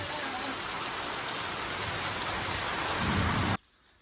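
Heavy first monsoon rain pours steadily in a Maharashtra village during a thunderstorm, a dense, loud roar with low rumbling beneath, cutting off abruptly near the end.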